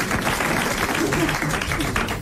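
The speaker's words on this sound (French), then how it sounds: "Alors, vous applaudissez" Studio audience applause on a 1983 French radio comedy panel show, a steady dense patter of clapping filling the whole stretch at moderate loudness, with some voices mixed underneath.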